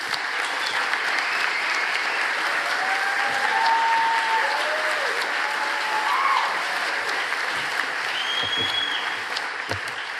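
Sustained, dense applause from an audience honouring award recipients at the WFAE EQUALibrium Awards, an even roar of clapping that holds steady for about ten seconds.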